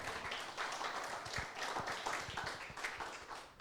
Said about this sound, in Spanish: ¿Podemos dar un aplauso a Dios, por favor, en el nombre de Jesús?